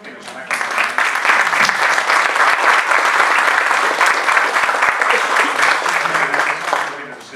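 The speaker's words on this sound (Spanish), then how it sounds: "no nos podemos despedir sin darles un gran aplauso a las 4 panelistas que nos han acompañado" A university audience gives a loud, sustained round of applause for four panelists at a forum on migration in Medellín, with dense clapping throughout.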